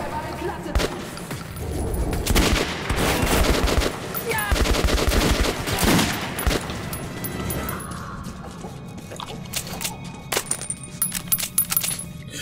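Enemy gunfire in the shooter Metro 2033 Redux: bursts of automatic fire and single shots crack repeatedly and loudly, with metallic clinks of spent casings, while someone talks between volleys.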